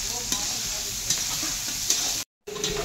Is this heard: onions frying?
yes